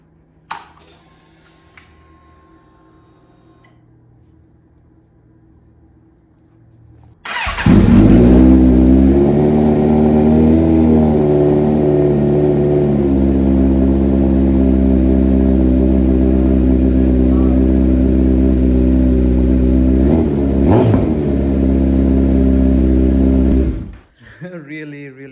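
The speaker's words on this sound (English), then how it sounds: "start the bike up, and let's see how this thing sounds." A Kawasaki Z900 with a LeoVince full exhaust system fires up after a quiet start and settles into a loud, deep idle, with a few sharp blips of revving before shutting off.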